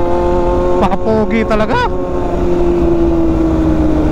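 Yamaha R1M motorcycle engine running steadily while riding, a sustained tonal drone that stays loud throughout, with someone talking briefly over it.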